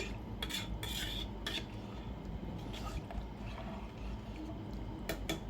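A utensil scrapes and stirs goat leg curry in a pot, with steady clinking and scraping strokes over a continuous bubbling, sizzling background, close and fairly loud, with no talking.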